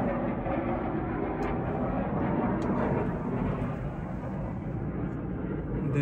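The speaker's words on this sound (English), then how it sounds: "There is something going on with planes, like something army planes." Military aircraft fly overhead near the Eiger above Grindelwald, Switzerland, a low, steady distant roar that fills the background evenly, with a couple of faint clicks and no voices.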